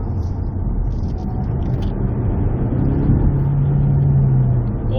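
A Kia Stinger facelift accelerates with its variable exhaust on the low setting, its engine hum building steadily in pitch from inside the vehicle, with a slightly more audible exhaust note.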